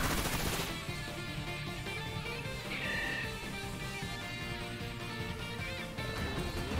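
Gunfire in a video game, a dense continuous stretch of shots and game noise running steadily at moderate loudness throughout, with no talk over it.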